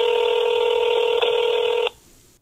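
A phone number is dialed with DTMF tones, heard as one continuous loud, close two-tone beep that cuts off abruptly near the end, leaving quiet room noise.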